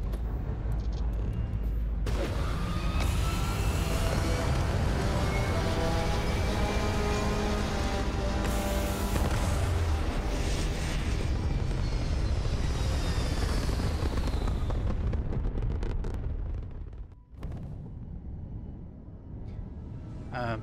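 A spaceship lifts off in the video game Starfield with a loud, sustained engine roar and rising whine, building over about fifteen seconds before cutting sharply to a quieter hum.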